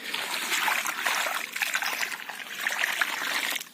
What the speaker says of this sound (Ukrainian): Виливаємо сюди відро води.